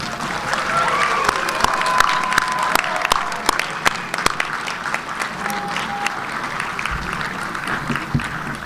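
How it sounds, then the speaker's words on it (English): Sustained, loud applause from graduates at a December 2021 University of Western States commencement ceremony, dense clapping filling a large hall for about nine seconds with scattered crowd noise. "Graduates, please turn and thank and applaud your family and friends for the support they've given you."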